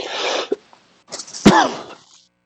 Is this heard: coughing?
yes